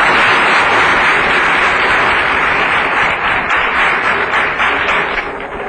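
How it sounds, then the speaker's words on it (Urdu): A mushaira crowd gives a poet loud, sustained applause, a dense wash of clapping that holds steady throughout. "حاضرین کرام، شہزاد احمد جتنے بڑے شاعر ہیں ان کے لیے ایک مرتبہ پھر تالیاں"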